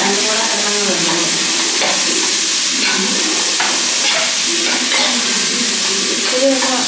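Turkey berries frying in a pan for a medicinal home dish, giving a steady, loud sizzle and crackle with repeated stirring scrapes throughout, and no voices over it.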